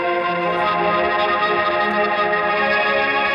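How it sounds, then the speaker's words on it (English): A loud, sustained synth tone with a bright, buzzing resonant edge, dense harmonics holding steady throughout. "That's when the filter and the resonance hit that you get that kind of piercing sound"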